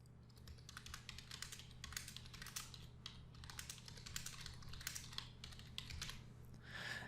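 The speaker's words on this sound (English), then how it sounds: "So let me type in a description here real quick." Close, fairly quiet typing on a computer keyboard: quick irregular bursts of key clicks continue through the whole stretch over a low steady hum, with no talking.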